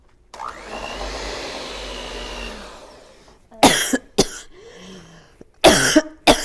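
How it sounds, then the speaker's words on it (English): An electric mixer whirs steadily for about three seconds while blending pecan cranberry cookie dough in a home kitchen, loud and close. It stops and is followed by a few sharp coughs and throat clearing. "So plug your ears just a little bit because you're going to hear the mixer."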